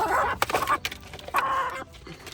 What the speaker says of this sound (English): Chickies, chickies. Chickens, look.